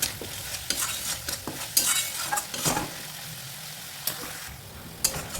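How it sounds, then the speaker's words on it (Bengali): A spice paste with ginger and garlic is stirred and fried after a splash of water, with irregular scraping strokes over a steady sizzle, close by and without talk. "জল দিয়ে মশলা ভালো করে কষিয়ে নিতে হবে"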